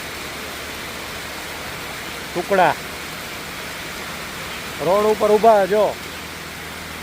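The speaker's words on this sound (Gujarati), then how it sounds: "અત્યારે તો બહુ મસ્ત વરસાદ પડે છે, બહુ મસ્ત સોલિડ" Heavy rain falls steadily, a broad even wash of close, constant noise, with a voice speaking briefly twice over it.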